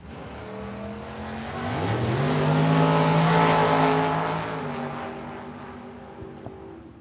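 Drag racing cars launch down the strip at Tucson Dragway, a loud engine roar that swells as they pass and then fades into the distance, with no voices over it.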